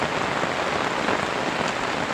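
Heavy rain pouring steadily in an eggplant and chili garden, a dense, even hiss of drops on surfaces with no pauses and no talking.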